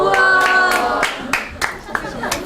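A handful of students clap in a classroom, sparse and uneven separate claps that thin out, over faint lingering speech.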